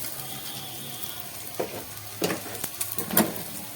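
Tomatoes go into a hot pan of goat lung curry and set off a steady, fairly quiet sizzle, with a few louder spattering bursts near the end.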